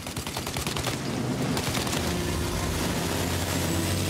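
Rapid sustained gunfire rattles through a shootout in Mafia Definitive Edition, dense overlapping shots loud and continuous over a low engine-like drone.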